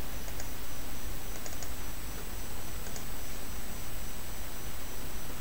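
Computer keyboard keys are pressed on a Linux Budgie desktop, a few light clicks standing out against a constant hiss.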